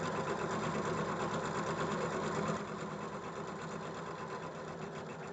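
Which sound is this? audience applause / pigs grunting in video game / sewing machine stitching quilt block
sewing machine stitching quilt block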